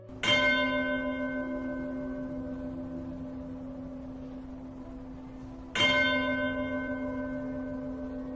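A large church bell rings inside a stone structure, striking twice several seconds apart, each loud clang followed by a long ringing decay.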